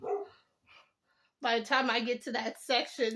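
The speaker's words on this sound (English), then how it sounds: "I'm sorry, barking in the background." Small pet dog barking in a home, yips heard faintly and brief early on, then someone talks steadily in the foreground while the dog stays mostly masked beneath her voice.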